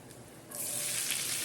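Chopped onion dropped into a hot pan starts frying, a quiet hiss swelling into a bright, steady sizzle close by.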